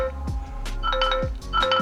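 Notification tone from a TicWatch 3 Pro smartwatch's small built-in speaker, a short run of bright, tonal chimes repeating, close and fairly loud, with no talking.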